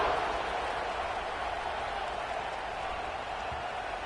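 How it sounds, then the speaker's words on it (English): A football stadium crowd at a college game keeps up a steady, distant roar after a touchdown, a dense wash of cheering and applause that stays even throughout with no clear voices. "this crowd is buzzing after that last score"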